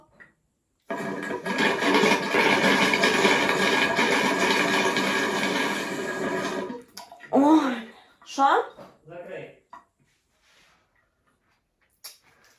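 A shower sprays a loud, steady hiss of water for about six seconds and then cuts off, followed by a few short bursts of someone talking and some faint knocks.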